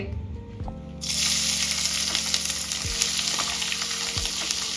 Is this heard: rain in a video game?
no